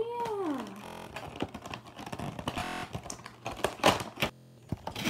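Keyboard keys are pressed in irregular bursts of clicky taps, close and fairly quiet, with a brief whining electronic tone near the start.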